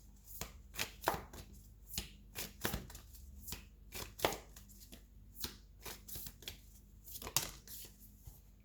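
Tarot cards being shuffled and drawn, a run of soft riffling snaps and papery slides in an uneven rhythm, close and fairly quiet with no talking.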